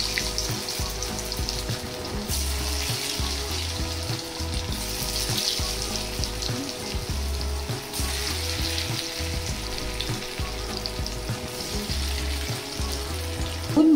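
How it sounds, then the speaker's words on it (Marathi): Cabbage kofta dumplings fry in oil over a low flame, a continuous close sizzle and bubbling that holds steady throughout, with a faint rhythmic low hum underneath and no voices. "एक एक वडी आपण त्याच्यात टाकू आणि मंद विस्तवावर तळून घ्यायचं."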